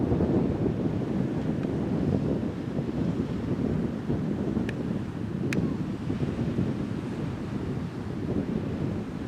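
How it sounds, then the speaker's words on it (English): Sea surf washing onto the shore near Dungeness Power Station and Pett Level, a steady broad roar of waves under strong wind buffeting the microphone, continuous and fairly loud throughout with no voices. "And the sound of the sea, nice and restful."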